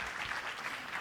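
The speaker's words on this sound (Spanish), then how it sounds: "Un aplauso para ellos." Brief burst of audience applause at a university conference session, a dense wash of many hands clapping, fairly soft and continuous throughout.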